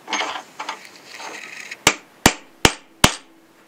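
A center punch is struck into metal while adapting a Tessar or Visiogon lens to an M39 mount. Brief scraping and handling noise comes first, then four sharp, ringing metallic taps, evenly spaced and close.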